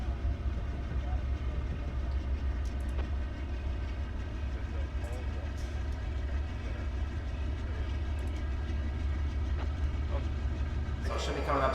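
A train at Cajon Pass rolls slowly through a crossover, giving a steady low rumble with faint clicks and squeals across nearly twelve seconds and a brief sharper burst at the end.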